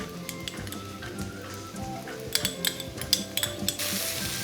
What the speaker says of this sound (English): I'm gonna toss the garlic in.